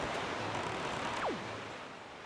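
A sailboat crosses the open ocean in the video game The Wind Waker. Steady, soft wave and wind wash runs throughout, and a brief falling whistle-like tone sweeps down near the middle.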